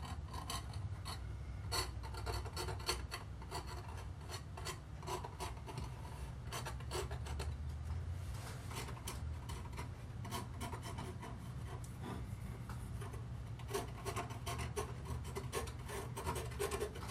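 Repeated rasping scrapes of a palette knife dragging oil paint across canvas to form bushes in a tonalist landscape, a steady close-up scratchy texture with short strokes throughout and no talking.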